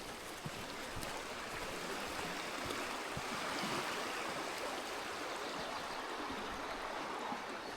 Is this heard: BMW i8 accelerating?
no